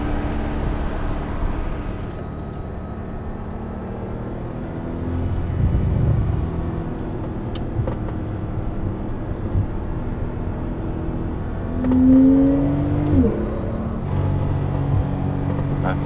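A Porsche 911 Turbo engine is heard from inside the cabin with the windows up, a muffled low drone that swells as the car accelerates through second gear, then eases off under braking and rises again.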